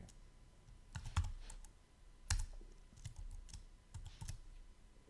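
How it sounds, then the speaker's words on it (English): Typing on a computer keyboard during a live coding session, with quick clusters of light key clicks in uneven bursts separated by short pauses, faint and close, with no talking. "Typing is very difficult."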